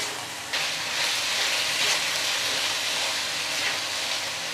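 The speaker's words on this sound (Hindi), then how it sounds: "फ्लेम हाई करके अभी हम लहसुन और चिकन दोनों को फ्राई करेंगे 1 से 2 मिनट" Garlic and chicken frying over a high flame in a wok give off a steady, loud sizzling hiss that swells slightly after the first half second and holds evenly to the end, with no voices.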